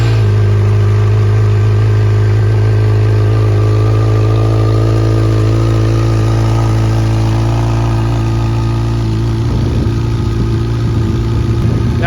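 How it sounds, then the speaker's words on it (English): A 2011 Yamaha FZ6R motorcycle engine runs at a steady idle, loud and close, with a smooth continuous hum throughout and a slight shift in tone near the end. "let me start this bike up real quick for you guys so you can hear it"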